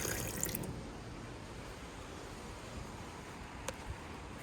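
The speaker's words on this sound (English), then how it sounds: "Working sink." Water runs steadily from a sink on a covered outdoor patio, a faint, even trickle with a brief splash near the start and a short clink later, no talking.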